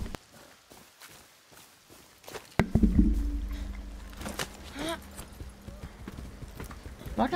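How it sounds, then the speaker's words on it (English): A horse in the video game Far Cry 6 moves with clip-clopping hoofbeats and splashing through water, the thuds growing louder after a quiet start and continuing irregularly. "I don't think the horse likes that deep water."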